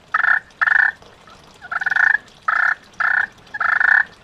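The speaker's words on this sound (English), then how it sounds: "Then you just take your striker. Again, you just draw it towards you." A friction turkey call worked with a striker runs through a series of purring notes, five or six raspy bursts with short gaps between them, close and fairly loud.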